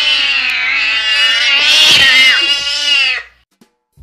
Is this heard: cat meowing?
yes